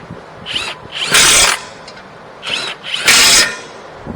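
Ratcheting and rasping metal clicks from a hand tool tightening front brake caliper bolts on a Lexus IS 350, in two close bursts with a short pause between, loud and alone.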